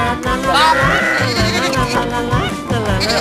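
Goat bleating in a comedic Indonesian film scene, repeated wavering cries up close over a busy mix of talk and background sound.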